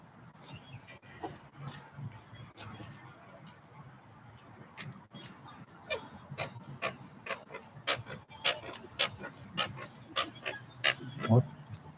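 A bird calling repeatedly in a city park in Echo Park, a series of short sharp rasping calls growing louder and more frequent toward the end, over distant murmuring voices and outdoor background noise.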